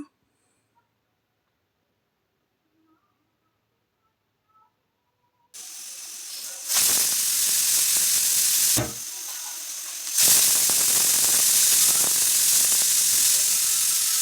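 A pressure cooker of ghee rice vents steam after a few quiet seconds. A loud, harsh hiss and whistle bursts out, dips briefly, then roars again steadily to the end.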